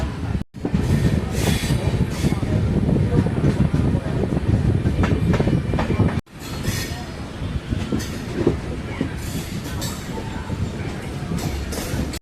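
An express train hauled by a WAP-7 electric locomotive pulls out of Aduthurai station, heard from on board: loud steady rolling rumble with wheel clatter and squeal, two brief dropouts breaking the sound.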